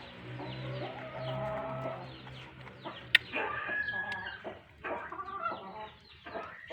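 Chickens cluck and murmur nearby in soft, irregular bursts, with a few sharper squawks and a brief click partway through.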